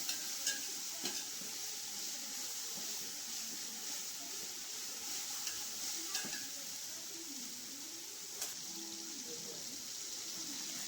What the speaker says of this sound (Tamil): இப்போ இஞ்சி பூண்டு பேஸ்ட்டு போட்டு நல்லா வதக்கி விட்டுக்கோங்க